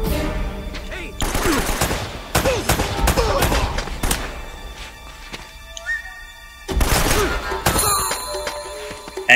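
Gunfire in Uncharted: Drake's Fortune crackles in repeated loud bursts of rapid shots with impacts and clatter, a quieter lull in the middle, and a voice speaking briefly.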